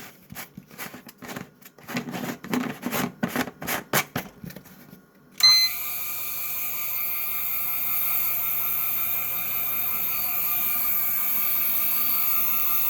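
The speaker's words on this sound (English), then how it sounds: "Six fans running." An Arctic Chill 5460 evaporative water cooler runs with six fans, giving a steady, loud broadband whoosh with a low hum that starts abruptly partway through, after a stretch of quieter knocking and handling noises.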